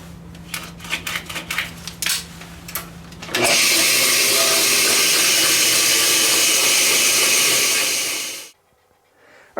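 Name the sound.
bandsaw cutting a resin casting blank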